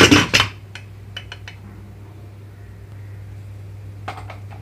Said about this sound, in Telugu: ప్రెషర్ కుక్కర్ మూత పెట్టేస్తున్నాను నేను ఇక్కడ